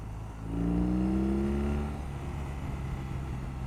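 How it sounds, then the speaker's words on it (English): A BMW R18 First Edition motorcycle with fishtail exhausts revs up, its deep engine note rising for about a second and a half and then dropping back to a steady rumble. "the noise coming out of those fishtail exhausts"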